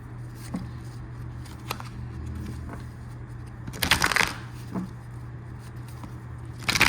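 A tarot-style energy card deck being shuffled up close, with soft papery riffles and a louder burst of card flutter midway, over a steady low background hum.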